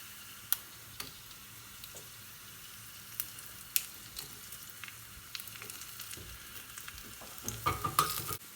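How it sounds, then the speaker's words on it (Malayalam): Dried red chillies fry with onions in hot oil, a faint continuous sizzle under occasional ticks and spoon scrapes, swelling louder near the end, with no talking. "ഉണക്കമുളക് ഇട്ട് കൊടുക്കാം."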